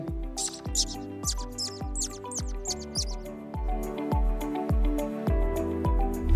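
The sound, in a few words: voice imitating a child's squeaky sandal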